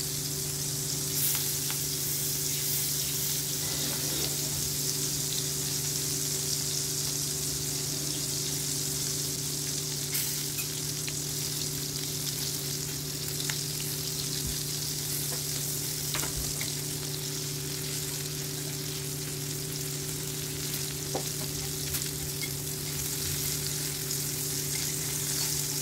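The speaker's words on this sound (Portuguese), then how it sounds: "E eu vou fritar o camarão de um lado." Shrimp frying in a pan, a steady close sizzle that runs throughout with a constant low hum beneath and no talk.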